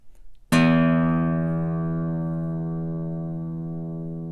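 A short scale classical guitar sounds a single strummed chord that rings out clearly and slowly decays over several seconds, after a faint brief noise of handling just before.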